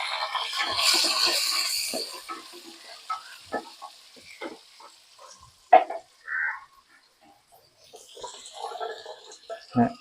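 Finely chopped shallots and onions frying in a pan, with a bright sizzle, stirring scrapes and clinks, and scattered knocks that ease off into quieter crackling near the end.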